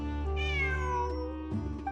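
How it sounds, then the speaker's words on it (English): Cat meowing during a Genshin Impact game session: one drawn-out, rising then falling meow, clear and close, with a brief second cry near the end over steady low background hum. "It really is a cat."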